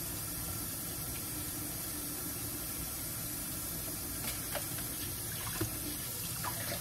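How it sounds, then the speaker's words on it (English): Tap water runs steadily into a kitchen sink while a small pot is washed, a continuous close rushing hiss with a few faint clinks and splashes near the end. "Let me go in and wash this little pot out while I'm standing up here."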